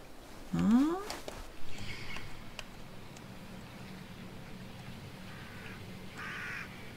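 Crows cawing in Assassin's Creed Odyssey, a few scattered rasping caws at a middle distance amid quiet game ambience, with a rising whistle-like tone near the start.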